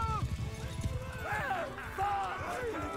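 Horse hooves clip-clop steadily in the video game Mount and Blade 2 Bannerlord during a night battle, with a couple of neighs and whinnies rising over the galloping beat.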